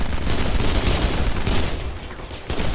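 Gunfire in the crime shooter game Kane & Lynch comes as dense, loud, rapid bursts of shots that overlap into a continuous barrage, easing briefly before another burst near the end.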